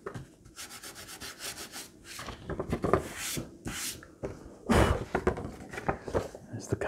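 Rubbing old aged glue off a vintage paperback book, a series of close dry scratchy strokes, some quick and some longer, with faint breathing or low voice underneath.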